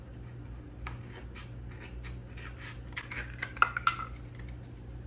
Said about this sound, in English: So now we gotta cut our cup.